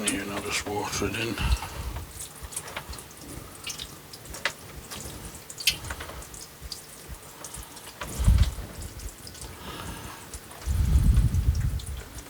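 Water being poured onto the soil of an acacia-style bonsai tree, with soft splashing and trickling close by and two louder gushes near the end.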